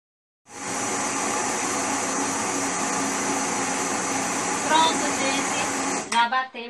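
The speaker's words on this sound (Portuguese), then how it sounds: "Então vamos bater a massa agora." A kitchen blender whirs loudly and steadily, mixing canned corn cake batter, starting abruptly from silence, holding a constant motor drone, then cutting off, with a voice speaking briefly at the end.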